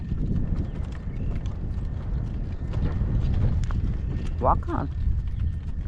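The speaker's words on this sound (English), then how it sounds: "Brood mares and babies." Hooves of brood mares and their foals clip-clop steadily on the ground during a windy spell, with a brief whinny near the end and a person speaking briefly over the hoofbeats.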